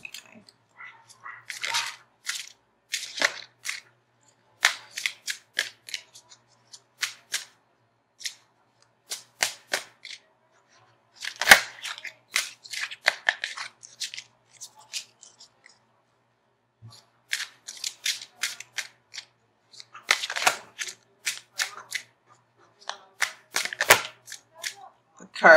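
Tarot cards being shuffled and pulled from a new deck, heard as intermittent bursts of quick riffling, flicking and snapping card sounds separated by short quiet gaps, close and clear.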